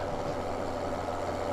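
A tractor engine in Farming Simulator 2017 idles with a steady, even low drone throughout, with no talking over it.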